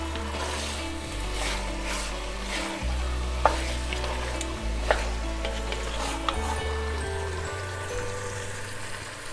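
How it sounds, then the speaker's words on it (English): Meat sauce being stirred in a very hot pot, with steady close sizzling and frying under repeated scraping strokes and a few sharp clicks of the spoon against the pot, and no talk. "Give that a good stir. Make sure everything gets mixed."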